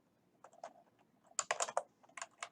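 Quiet, close keystrokes on a computer keyboard, a short irregular run of taps with a brief pause, then a quicker cluster of presses ending with one firmer key.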